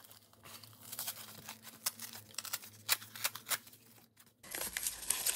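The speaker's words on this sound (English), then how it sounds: "let me tear out a smaller piece. This one here is super thick. This is quite difficult to tear." A thick piece of paper is torn for a mixed media junk journal cover, with a run of close, crisp ripping and crinkling bursts that swell into a longer, louder tear at the end.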